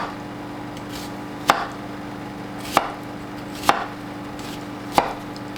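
A knife chopping an onion on a board, four sharp separate thuds spaced about a second apart, close and clear over a quiet background hum.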